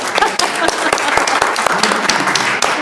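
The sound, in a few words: audience applause at school board meeting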